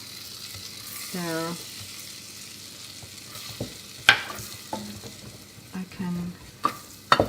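Flour is stirred into melted butter in a pan for a creamy caper sauce: scraping spoon strokes and soft clicks come and go over a low sizzle, with a voice speaking briefly.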